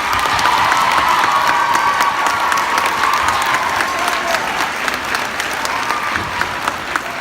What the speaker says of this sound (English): let's give our boys a great round of applause